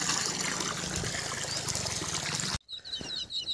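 Water rushes from the 1.5-inch delivery pipe of a 1700W BLDC borewell motor drawing from 350 feet on a village farm. It is a loud, steady, close gush for about two and a half seconds, then cuts off abruptly, leaving faint birdsong.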